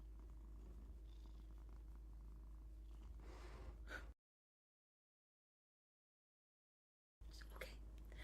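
A cat purring softly and close by in a steady low rumble for about four seconds, then a stretch of silence before faint sounds return.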